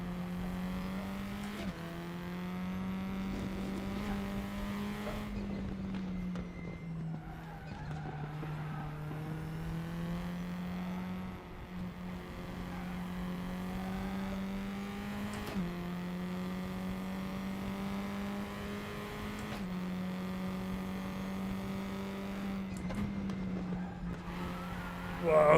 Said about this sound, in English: Tokyo drifting a Formula car